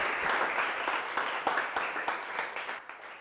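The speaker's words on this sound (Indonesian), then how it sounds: "silakan beri tepuk tangan dulu untuk kelompok 1" A classroom of students gives steady applause for a presenting group, a dense, even patter of many hands that holds for a few seconds with no talk over it.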